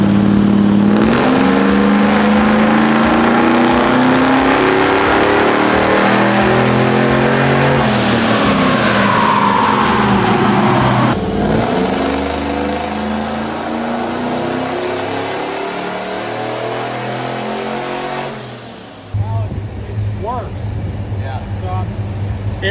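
A supercharged LS engine in an old pickup truck revs hard on a dyno, a loud, sustained roar that climbs in pitch, then drops back and settles into a steadier drone near the end.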